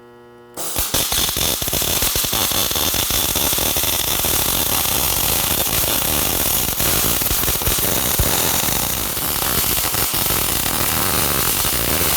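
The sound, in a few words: welding steel on car hauler trailer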